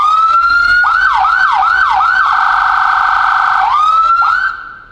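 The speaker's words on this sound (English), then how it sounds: "we can activate it from our horn" A loud, close police car siren, activated from the horn, cycling through rapid yelps, then a sustained high wail, then more sweeping tones before cutting off.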